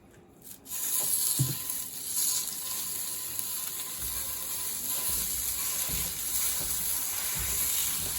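Sausage sizzling in a large cast iron skillet, a steady close frying hiss with a few scraping clicks from a utensil and no speech.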